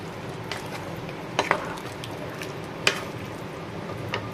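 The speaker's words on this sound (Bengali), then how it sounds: "এবার ভেজিটেবলগুলোও দিয়ে দিচ্ছি আমি। এবার একটু নাড়িয়ে নিয়ে" Pasta and vegetables being stirred in a pan for white sauce pasta, a soft steady sizzle broken by a few sharp scraping clicks of the spoon against the pan, close and quiet, with no talking.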